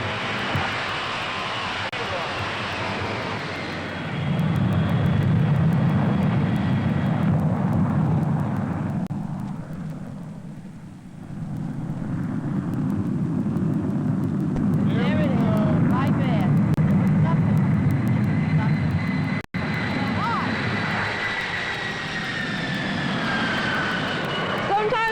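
Jet engine roar of an airliner rolling down runway 29 left for takeoff, a broad low rumble that swells, dips briefly midway, then builds again under radio-style talk, with a sharp click near the end.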